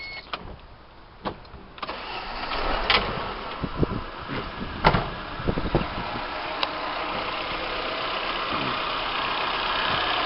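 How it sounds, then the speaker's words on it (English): Ford Escort Mk5 with a 1600 Zetec engine cranks and starts amid a few clicks and clunks, then settles into a steady, even idle with no knocking heard. "If I just start the car up and give you a listen."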